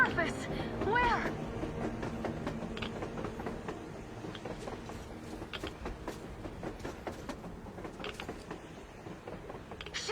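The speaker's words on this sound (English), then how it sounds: "A damn train on the surface!" A train running on the surface in the video game Metro Exodus, with creaking metal and rhythmic mechanical clatter at moderate distance, steady throughout and mixed with other game sounds.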